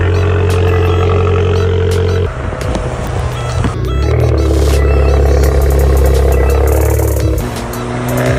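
A modified Abarth engine runs loud and close, a deep steady drone that shifts pitch as it revs up and settles back, with a voice talking over it.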